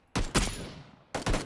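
Several bursts of gunfire in the PUBG battle-royale game, a loud volley that rings out with a fading tail, then a second close burst about a second later, with no talk over it.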